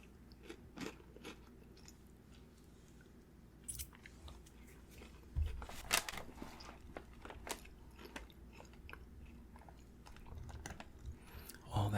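Close, crisp bites and crunchy chewing of a layered wafer snack from a Japanese snack box, repeated irregularly with soft mouth sounds and quiet pauses between crunches.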